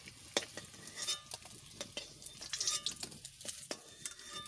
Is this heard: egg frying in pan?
yes